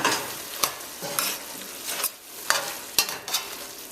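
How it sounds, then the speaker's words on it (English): Curry chicken with string beans and grape tomatoes is stirred in a pot: repeated spoon scrapes and clacks come at an uneven rhythm over a soft sizzle, close and clear, with no talking. "Quick stir."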